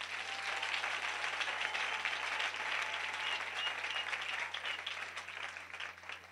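Sustained, dense applause from a crowd at a charity event for orphans in a camp, loud and steady throughout, easing slightly at the end.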